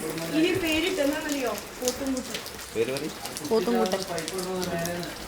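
Steady rain falls after a sunny spell, a continuous hiss of drops running beneath several people talking close by.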